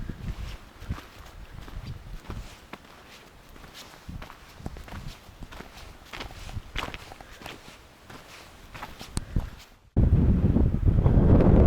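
Strong desert wind at Joshua Tree buffets the microphone in rough gusts, with crunching footsteps on the ground for most of the stretch before a loud, steady roar of wind noise takes over near the end.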